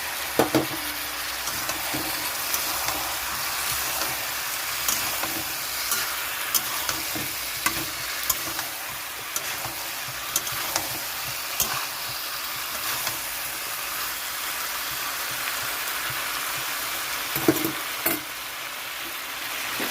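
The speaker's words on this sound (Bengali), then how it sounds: "এখানে একটু গরম জল দিয়ে দিচ্ছি কষানোর জন্য" Prawns braising in a pan after hot water is poured in, a bright continuous sizzle and hiss with scattered spoon scrapes and knocks, one louder clatter near the end, close and steady without speech.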